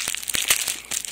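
Packaging for a Seiki 50-inch 501TS television crinkles and crackles close by in quick irregular bursts as scissors cut it open.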